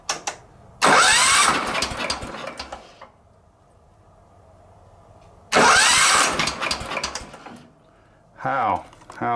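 Kohler CH15S engine on a Wheel Horse 315-8 garden tractor that will not shut off, cranking and catching into loud sputtering runs twice, each lasting a few seconds before dropping to a quieter idle-like hum, then a brief third burst.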